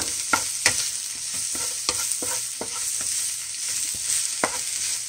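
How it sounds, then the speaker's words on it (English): Dragon kale sautéing in a pan, a bright steady sizzle with a regular series of soft stirring scrapes close by, no talking. "You can saute it till it becomes tender."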